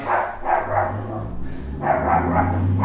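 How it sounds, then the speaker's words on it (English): A neighbor's dog barks in two clustered bursts near the listener, loud yips and woofs separated by a short pause. "My neighbor's dog."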